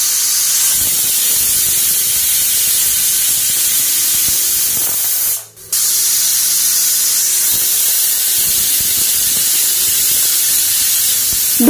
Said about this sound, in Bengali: ঢাকনা বন্ধ করে গ্যাসের ফ্লেমটাকে হাইতে রেখে 2টো সিটি দিয়ে আমি আলুটা সেদ্ধ করে নেব।